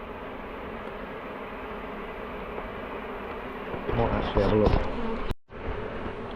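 A dense honeybee swarm in a compost bin hums steadily close by, with a voice briefly speaking over the buzz before a sudden cut.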